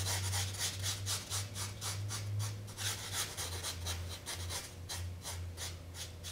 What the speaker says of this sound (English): You can see how easily this sands.